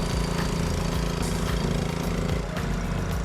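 Riding mower engine of a Craftsman R140, running after a jump start, with a steady rough mechanical drone and a fast pulsing throb, close and even throughout.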